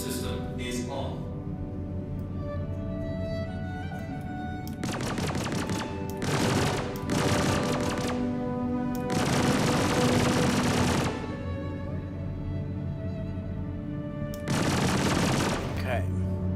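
Ship weapons in the space game Star Citizen fire in several loud rapid bursts, separated by quieter gaps over a constant humming engine drone.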